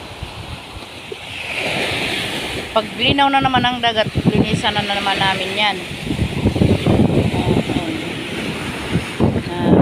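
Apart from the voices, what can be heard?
strong wind at the sea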